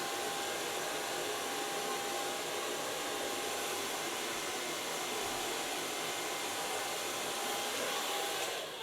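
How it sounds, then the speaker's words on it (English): A hair dryer blows bleached blonde hair, a steady, close, loud whooshing roar that holds evenly without pause, and nobody speaks. "So far blow drying for the blonde color."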